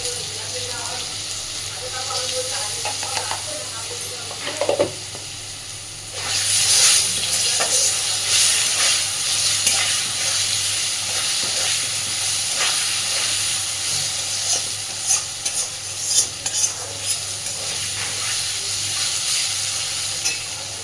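Potatoes with turmeric sizzle and hiss steadily in hot oil, a loud continuous fry broken by occasional scraping stirs and a surge of sizzle partway through.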